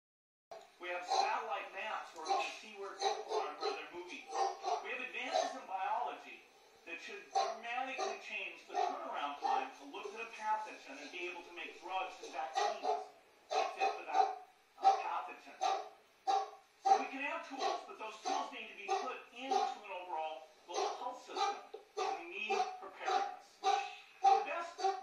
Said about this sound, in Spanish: la perturbación es un perro ladrando.